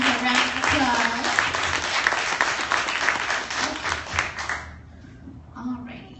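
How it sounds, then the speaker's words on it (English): Applause rises from the audience at an evening business training meeting, a dense run of clapping with a few cheers that fades after about four and a half seconds. A voice talks faintly underneath. "let's give our double diamonds a round of applause"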